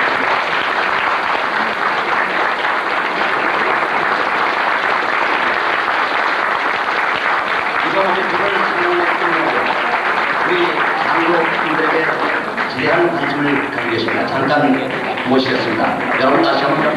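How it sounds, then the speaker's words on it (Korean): A dinner-show crowd at an international hotel in Beijing applauds in a loud, continuous wash, with voices and music-like tones rising over the clapping partway through. "여러분 박수로 맞이해주시기 바랍니다"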